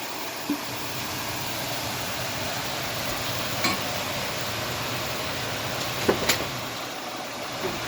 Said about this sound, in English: Now we are going to deglaze with some red wine here.